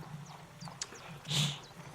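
A horse's hooves clip-clop in a brief, uneven run of soft thuds, fairly close, with a faint breathy snort near the end and no talking.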